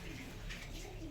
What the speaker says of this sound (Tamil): இது புறா தாங்க. எல்லா சைஸ் புறா இருக்குதுங்க.